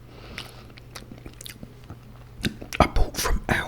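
Steak, egg and chips being chewed up close, with wet bites and crunchy chomps that grow louder and denser toward the end over quiet background.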